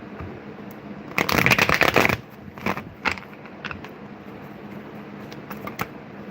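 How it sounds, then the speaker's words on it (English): A deck of tarot cards is shuffled in a riffle burst of about a second, crisp and close. A few lighter card flicks and taps follow over quiet room tone. "Let's get a good shuffle."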